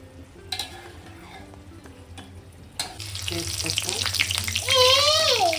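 Finely chopped onion fries in a pan, a hissing sizzle that swells in partway through and grows louder toward the end, with a thin high tonal sound over it near the finish.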